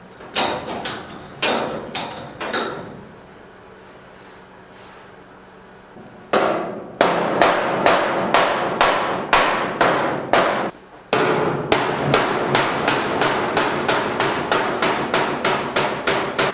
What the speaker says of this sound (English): sometimes there is hammer and dolly, and sometimes there is just hammer